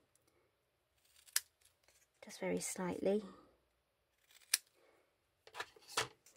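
Scissors snip through paper backing while making a twist-and-fold pop-up mini album, a few short sharp cuts close by, with a stretch of quiet talk in between.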